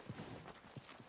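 Horse hooves clip-clopping at a walk in the Red Dead Redemption 2 video game, a steady rhythm of soft thuds and clicks at moderate level, heard alone without talk.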